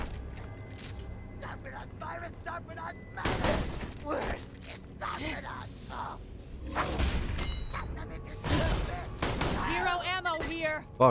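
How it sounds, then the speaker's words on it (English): Gunfire in Borderlands: The Pre-Sequel, several sharp bursts of shots spread across the stretch with whooshes and thuds between them; the metallic ding of a helmet being shot off is not clearly distinct, and someone talks over parts of it. "I love the ding of shooting off their helmet, or their mask"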